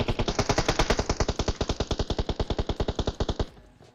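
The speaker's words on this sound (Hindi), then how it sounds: "और इधर गोलियां भी चल रही है" Rapid automatic gunfire in PUBG Mobile, a long steady burst of evenly spaced loud shots lasting over three seconds, then stopping abruptly.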